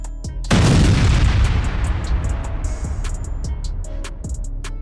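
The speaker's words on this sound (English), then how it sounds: "Ukrainian forces used the system to destroy a large column of Russian armored" Heavy explosions from HIMARS strikes on a Russian armored vehicle column in Ukraine: a sudden loud blast with a long rumbling roar, followed by scattered sharp cracks and pops.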